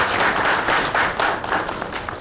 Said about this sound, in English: Let us give a big round of applause to the man who made it and responsible for it